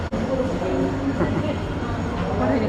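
Delhi Metro train at a station, with a steady rumble and rolling rail noise close by, some faint squeals, and talk under it.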